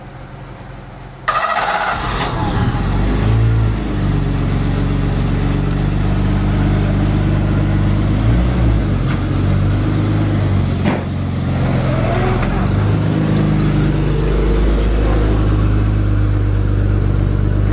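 A 34-year-old BMW M20B20 inline-six starts into a close, steady idle and then rises through several revs, its engine note climbing and falling before settling again.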